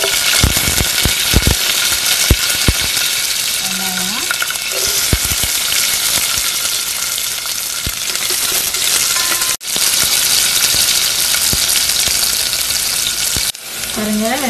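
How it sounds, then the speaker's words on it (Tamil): Curry leaves fry in hot oil with mustard seeds and urad dal for a tomato sambar tempering, a loud steady sizzle with crackling pops and spoon stirring clinks throughout, close up and without talk. "அப்போ கருவேப்பிலை சேர்த்துக்கலாம்."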